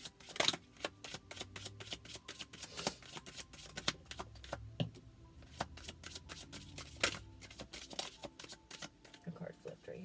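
A deck of oracle cards is shuffled by hand, giving a steady run of close, crisp riffling snaps and flicks with brief pauses between bursts, while a voice speaks softly at times.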